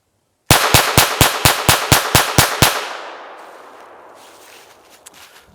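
A Taurus TX22 .22 rimfire pistol fires ten evenly spaced rapid shots outdoors, sharp and loud, followed by a fading echo and quiet ambience, with no talking.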